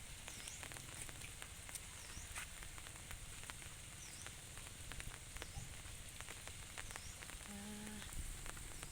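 Steady rain patters and hisses outside a rural house in the southern Lao countryside, a continuous soft wash of drops with faint bird calls and a brief tonal sound near the end.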